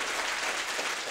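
A studio audience claps to welcome a guest onto a Tamil comedy talk show, a brief, dense, even wash of many hands heard close and continuous without any voices.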